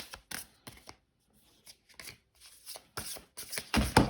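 Tarot cards being shuffled by hand for another draw, a series of quick riffling and slapping bursts with short pauses between, close and clear, no voice.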